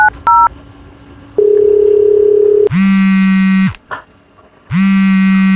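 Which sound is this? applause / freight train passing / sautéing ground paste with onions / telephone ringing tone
telephone ringing tone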